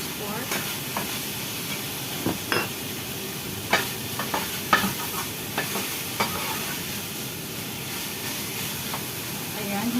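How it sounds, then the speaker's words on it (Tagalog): Minced pork sizzles and hisses in a pan with a little water, broken by scattered scrapes and clacks of stirring, loud and close throughout. "Habang niluluto natin ang ating minced pork."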